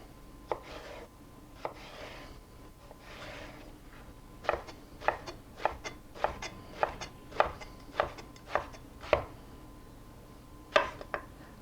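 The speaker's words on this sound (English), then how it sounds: "Then cut the eggplant into sticks and then to cubes." A knife chops eggplant into cubes on a cutting board, a quick, steady run of sharp, close taps that come in bursts with a few scattered cuts before and after.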